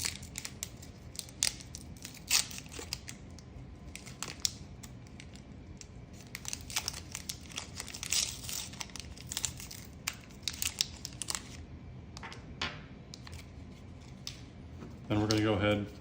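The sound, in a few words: unwrapping sterilized 3 ml cartridge from its packaging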